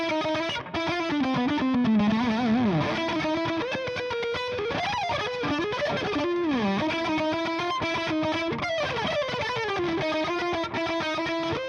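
Heavily distorted electric guitar through a Wampler Dual Fusion distortion pedal plays a continuous, loud lead line with bends and sustained notes, no voices present.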